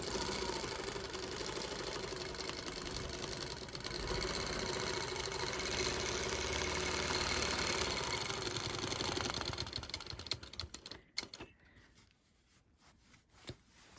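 Sewing machine quilting along a Lily Lines 3 quilting ruler, a steady close mechanical whirring hum that runs for several seconds, then stops and gives way to scattered handling clicks and quiet.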